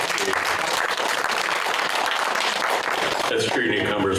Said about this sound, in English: Give her a hand, ladies and gentlemen.